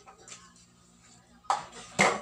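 Dishes being washed by hand in a home kitchen, with two sharp clattering bursts of plates and utensils knocking together after a quieter stretch of faint rattling.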